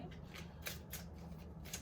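A deck of tarot cards is riffled and shuffled repeatedly during a card reading, producing soft rhythmic bursts of flapping and sliding paper at close range, fairly quiet, with no speech.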